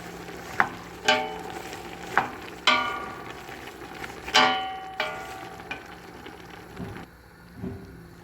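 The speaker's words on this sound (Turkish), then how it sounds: "Birlikte domates ve fasulyeyi bir 10 dakika bu şekilde kavuruyorum." Tomatoes and beans sautéing in a pan, sizzling steadily while a spoon stirs and clanks against it in several sharp, irregular knocks, close by with no talking.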